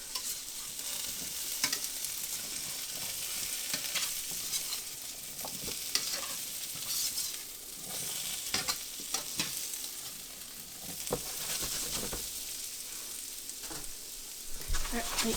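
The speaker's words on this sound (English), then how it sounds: "Now we're going to use our fish spatula to flip them." Home fries frying in a pan and being turned with a fish spatula: a long, steady sizzle broken by repeated scraping and clattering flips, close but fairly quiet, with faint speech at times.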